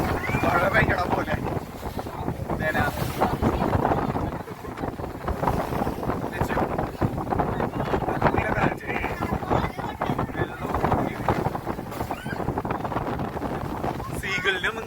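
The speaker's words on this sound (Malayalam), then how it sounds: "നല്ല തണുപ്പുണ്ട് കേട്ടോ, നല്ല കാറ്റടിക്കുന്നുണ്ട്, വെള്ളം വെട്ടിക്ക് വീഴുന്നുണ്ട്." A boat moves through choppy water in strong wind, with dense wind buffeting on the microphone, rushing water and intermittent splashes running continuously; voices talk over it.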